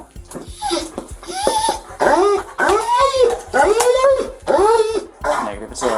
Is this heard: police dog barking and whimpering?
yes